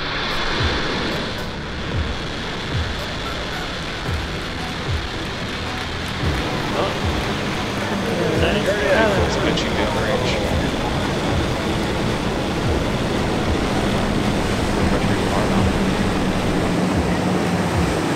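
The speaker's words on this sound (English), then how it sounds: "Ignition" A SpaceX rocket rumbles after liftoff, watched from Cocoa Beach, with a broad distant roar that builds and lingers steadily and blends with wind and surf-like noise, while voices sound faintly now and then.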